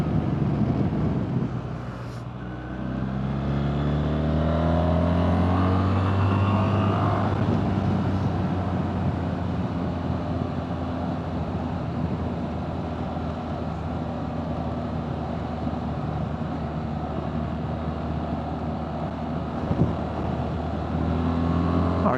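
A BMW R1300GS motorcycle carried through a series of road turns, engine tone rising and falling steadily under heavy wind rush for over twenty seconds, with no talking.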